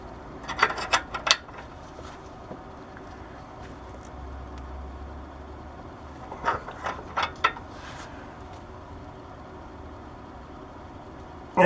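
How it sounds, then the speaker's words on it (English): A line wrench works loose an oxygen sensor on a 2007 Chevy Avalanche, giving two clusters of quick metallic clicks and ratcheting taps, close but fairly quiet, with pauses of low background hum between. "we're going to use just a line wrench"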